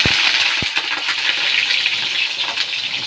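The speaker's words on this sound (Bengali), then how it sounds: "ততক্ষণ সবজিটা ভাজা করে নিই" Radish and potato pieces frying in hot oil in a pan, a steady loud sizzle throughout with a couple of sharp clinks near the start.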